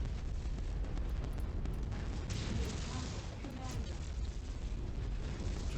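A production outpost gets blown apart in the MechWarrior 5 mech combat game, with a dense, continuous roar of explosions and booming blasts that stays loud and unbroken throughout.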